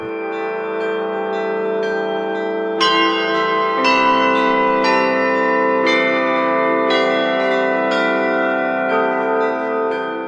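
Church bells in Mariana ring out in a steady sequence of bright, resonant strikes, each tone overlapping the decaying hum of the last, loud and clear with no voices.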